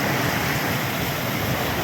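Thirumanimuthar river water rushing under a bridge, a loud, steady broadband roar with no pauses and no voices.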